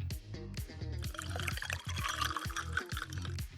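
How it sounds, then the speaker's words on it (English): Nail polish remover containing acetone pours into a Ziploc bag holding a paper towel, a steady close liquid splash and trickle with bubbly glugging running throughout. "pour in nail polish remover with acetone"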